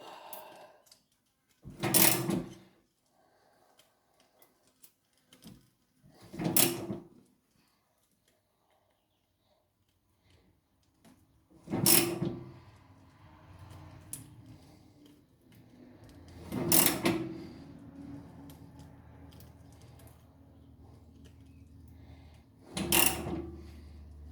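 A sausage press cranked down near the end of its travel, giving five separate bursts of creaking, grinding mechanical effort spaced a few seconds apart, with quiet pauses between them and no talk.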